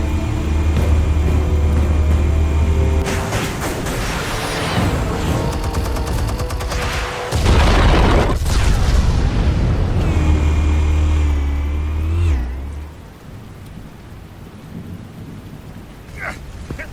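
Explosives detonating in an animated Batman series erupt in loud, rumbling booms and crackling blasts that roll on continuously for about twelve seconds, then fade to a quieter scene with scattered noises.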